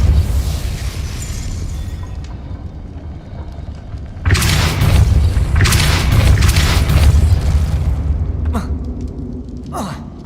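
The Repulso spell bursts out with a loud blast in the wizarding game Hogwarts Legacy, a thick rumbling surge that follows a quieter stretch and fades in a few seconds, with sharper pops near the end.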